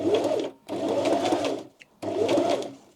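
A sewing machine stitches along a paper edge, running slowly in two steady bursts separated by a brief pause, close and fairly loud with no talking.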